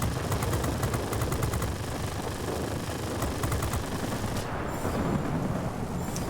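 Rapid bursts of heavy automatic cannon fire from a Yak-9 fighter in World of Warplanes, dense and loud, rattling in quick strings over a constant engine roar.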